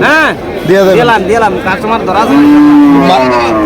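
Cattle at a rural cattle market in Cumilla moo loudly and close, long rising and falling bellows overlapping one another, with people chattering in the background.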